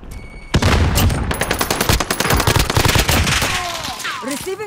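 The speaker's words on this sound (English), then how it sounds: "Receiving hostile fire." Rapid automatic gunfire in the Call of Duty video game, a dense rattling stream of loud close shots lasting several seconds, with game voices and whistling effects mixed in toward the end.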